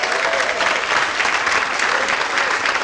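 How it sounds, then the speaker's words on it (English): A summit audience gives loud, dense applause, with many hands clapping steadily and evenly throughout without a break, close and filling the room. "So yeah, please, round of applause."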